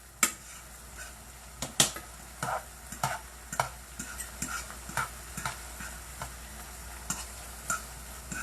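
Onions cook in a pan for a crockpot beef stroganoff, giving a faint, steady sizzle broken by sharp clicks and taps of stirring utensils against the pan, with no voices.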